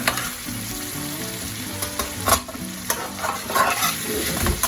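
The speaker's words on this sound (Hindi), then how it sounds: "अच्छे से इसको मिक्स करके 1 से 2 मिनट इसके साथ हम इसे भूनेंगे" Mutton karahi frying with spices in a wok while being stirred: continuous loud sizzling with repeated scraping and clattering of the ladle against the metal, close and busy, no voices.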